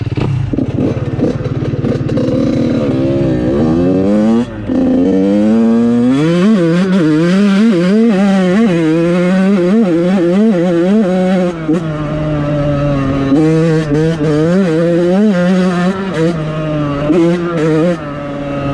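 A Yamaha YZ85 two-stroke dirt bike fitted with an FMF SST pipe and shorty silencer rips along, its loud, raspy engine repeatedly revving up and down through the gears, close and continuous.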